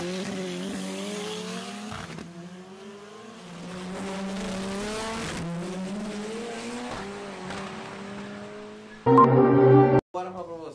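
A Chevette Tubarão drag car with an AP engine accelerates at a Brazilian drag strip, its engine note climbing repeatedly through gear changes with a rising roar and a sharp burst near the end, while a voice talks over it.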